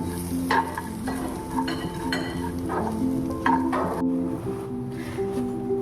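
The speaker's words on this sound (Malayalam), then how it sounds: "എന്നിട്ട് ഒന്നുകൂടെ ഒന്ന് നന്നായി ഇളക്കി കൊടുക്കുക." A spoon stirs egg and pappadam curry in a pan, scraping and clacking in uneven strokes over a steady sizzle, close and clear with no talk.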